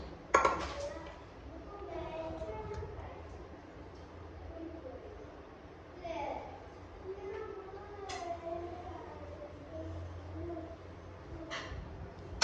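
A spoon stirs chopped fruits, nuts, raisins and dates together in a bowl, giving intermittent clinks and soft scraping. A voice talks over much of it.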